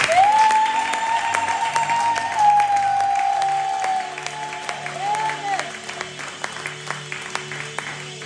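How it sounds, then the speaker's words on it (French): A church congregation at a Sunday service applauds, loud clapping at first that thins out, with a sustained tone like a held note or feedback running over it and scattered claps continuing at the end. "Est-ce qu'on peut applaudir pour la femme?"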